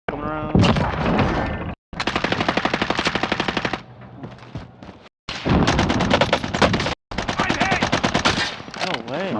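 Rapid automatic gunfire from an online shooter game rattles in long, loud close bursts, separated by brief silent gaps, with heavy thuds mixed in.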